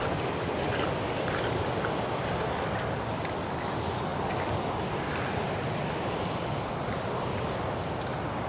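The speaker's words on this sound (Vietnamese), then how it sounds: "Mình cảm giác sông nó chảy ngược nhỉ, đáng nhẽ nó phải chảy xuôi về đây chứ." River water rushes steadily after a flood, a dense, continuous roar of churning current with wind buffeting the microphone and no speech.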